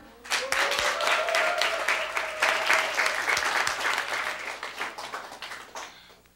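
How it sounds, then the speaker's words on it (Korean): A high-school class in Korea breaks into applause for a student who has finally come first, a dense, lively patter of many hands that holds steady for several seconds, with a short voice sounding over it, then tapers off. "다들 박수!"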